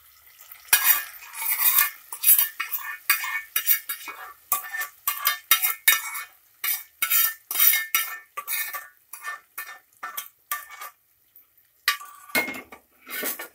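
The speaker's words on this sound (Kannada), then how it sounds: "ನೋಡಿ ಚೆನ್ನಾಗಿ ಮಿಕ್ಸ್ ಮಾಡ್ಕೊಳ್ಳಿ." Pongal being stirred and mixed in a metal pan after a tempering of fried green chillies, with the gas turned off: a long run of loud, close, rhythmic spoon scrapes and clinks against the pan, with brief pauses.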